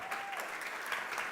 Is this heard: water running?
no